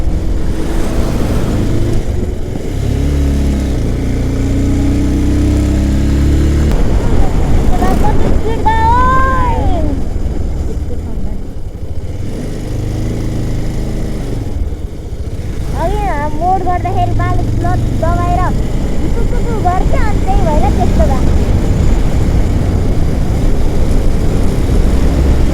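A motorcycle riding the mountain road from Dolalghat toward Sailung in Nepal, a constant loud engine drone and wind rumble throughout, with voices talking over it at times.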